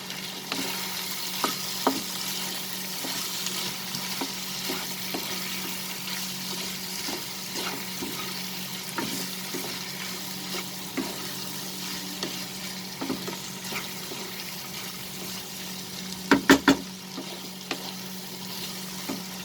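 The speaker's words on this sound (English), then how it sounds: "We'll saute it for 2 minutes over high flame." Coriander leaves and stems sauté over a high flame for a black chickpea chicken fry, giving a steady low sizzle with occasional light stirring scrapes and a brief cluster of clinks near the end.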